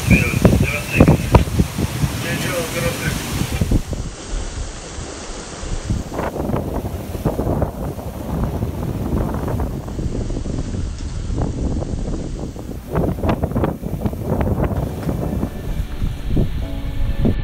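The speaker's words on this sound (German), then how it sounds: "So, wir haben jetzt um die 20 Knoten Wind." Strong wind of about 20 knots gusts over a sailing yacht underway at 6.5 knots, with sea waves and surf washing against the hull; steady, loud, rushing noise with bursts, heard alone throughout.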